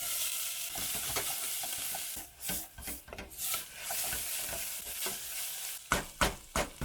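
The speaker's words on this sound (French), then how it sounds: "On fait chauffer ça et on met ça dedans." Steady frying hiss of peppers and onion in an olive-oiled pan, with intermittent scraping and stirring clatter from a utensil, close up and fairly loud.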